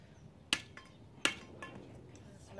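A stick strikes an object twice, two sharp hard knocks about three quarters of a second apart, close and loud against a quiet background, with a few faint lighter taps after.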